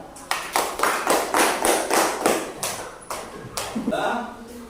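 Classroom clapping for a student group after a Quran lesson, a run of regular, fairly loud claps in unison that fades toward the end as a voice comes in.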